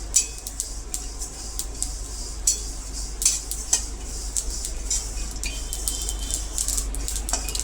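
A spoon stirs peanuts and sesame seeds as they roast in a pan, giving a steady dry rustle with frequent light scraping and clinking against the metal.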